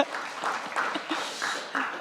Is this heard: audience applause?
yes